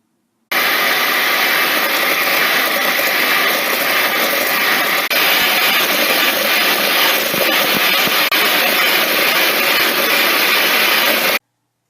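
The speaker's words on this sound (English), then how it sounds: "I'm going to use a hand mixer" An electric hand mixer creams butter and sugar for cookie dough, a loud, steady motor whir that starts abruptly, holds constant for about eleven seconds, then cuts off.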